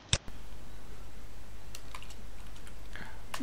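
Code being typed on a computer keyboard, with a single sharp click at the start, then soft, scattered keystrokes over a low background hum.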